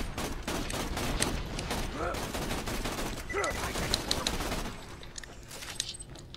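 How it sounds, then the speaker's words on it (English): A three-barrelled, minigun-like weapon in Borderlands 2 fires a sustained, dense rattle that runs loud for several seconds, then thins to scattered shots, with brief speech and other game sounds underneath. "It's almost like a minigun, only with three barrels."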